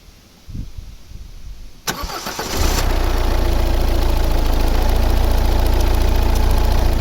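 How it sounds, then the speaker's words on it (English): A car engine cranks briefly and catches, then settles into a loud, steady idle that runs alone through the rest of the clip, with the car being started up to test its alternator. "we're going to go to the vehicle and we're going to start it up"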